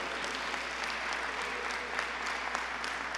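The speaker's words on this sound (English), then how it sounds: "Give Amy Alley a round of applause, because she lived and breathed this bill." Audience applause at a legislative event on policing reform, a steady dense clapping from many hands that holds for the whole stretch with no voices over it.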